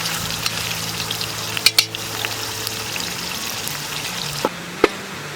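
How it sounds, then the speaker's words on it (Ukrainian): Steady crackling sizzle of meat frying for plov in a cauldron over a campfire, close by, with occasional sharp clinks of a utensil against metal. "ми вже відправляємо до неї наше м'ясо, щоб воно теж піджарилось, смажилось"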